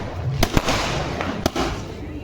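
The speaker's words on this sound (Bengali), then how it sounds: "এই রে বাবা রে আস্তে না আস্তে বাজি ফাটছে ফাটাফাট" Multi-shot firecrackers set off for Kali Puja crack in sharp, loud bursts, with two main bangs about a second apart, while people talk nearby.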